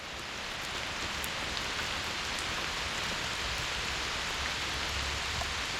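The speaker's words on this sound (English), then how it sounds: "The rain. It's making a little river on the trail." Steady pouring rain on a hiking trail in the Virginia woods, a dense even hiss that stays constant with faint scattered drip taps and no voices.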